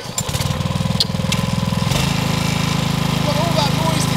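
A lawn mower engine catches after a cord pull and settles into a loud, steady running drone with a rapid chugging pulse, close by and with no talk over it.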